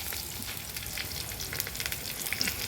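Onions fry in a pan with added garlic-ginger paste and chili for a spicy beef trotter dish, giving a close, continuous sizzle and crackle with faint stirring scrapes.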